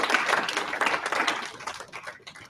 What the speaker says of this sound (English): So if you guys can give her a round of applause